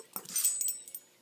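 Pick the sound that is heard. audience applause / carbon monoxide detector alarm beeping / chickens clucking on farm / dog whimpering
dog whimpering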